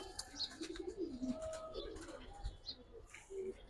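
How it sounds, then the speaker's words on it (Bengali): A male pigeon coos softly and repeatedly in a loft, faint short calls scattered under low background noise and a few distant voices. "নর কবুতর ভাই।"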